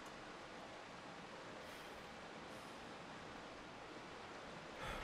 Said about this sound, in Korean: 이거 폭포 소리 같은데?